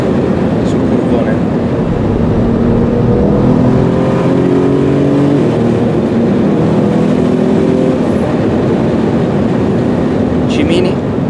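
Nissan GT-R race car of roughly 1300 hp tearing through a fast sweeping bend on a racetrack, a loud steady engine roar swelling and fading as it passes, partly buried in broadband wind noise.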